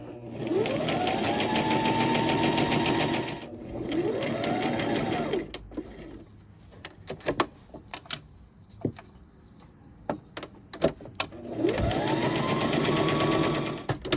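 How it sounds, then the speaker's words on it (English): A sewing machine stitching fabric along a seam for a jogger set runs in steady whirring bursts that rise in pitch as it speeds up, with clicks and handling knocks in the pauses between runs. "I'm going to stitch straight down and then across the lower edge"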